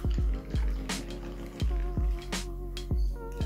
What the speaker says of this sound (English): So the small tin, I'm going to pour 50 ml of cognac.